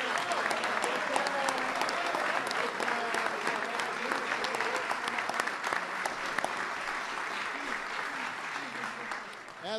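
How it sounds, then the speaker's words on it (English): Sustained applause fills a ceremony honoring the Golden State Warriors' 2015 NBA championship team, a dense, even clapping from a large audience that tapers slightly near the end, with crowd murmur beneath. "He's worth a standing ovation."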